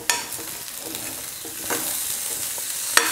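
Potato fry with curry leaves sizzling in a pan, a soft steady frying hiss broken by a few sharp scrapes and clinks of a spoon stirring, close and clear with no talk.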